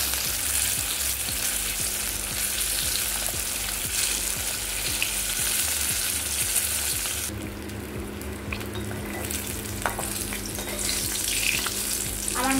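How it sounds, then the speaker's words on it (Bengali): Fish pieces sizzling in hot oil in a pan after being flipped, a loud continuous crackling fry with repeated scraping stirs, the hiss easing briefly midway before picking up again. "আমার মাছ ভাজা হয়ে গিয়েছে।"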